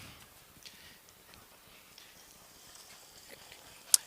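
Hooves of three-year-old pacing fillies at the start of a harness race behind a rolling gate at the Macon County Fair, a faint, steady clip-clop heard at a distance with a sharp click near the end.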